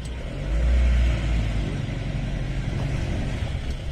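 A car crawls through a muddy village lane after rain, its engine rumbling low and steady close by, with a brief rise in effort near the start before settling into an even drone.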